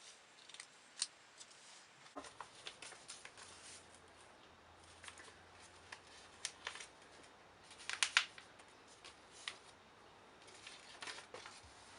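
Scissors cutting through layered felt around pinned paper pattern pieces, a sparse run of crisp snips and soft rustles, some close and sharp, spread irregularly across a quiet room.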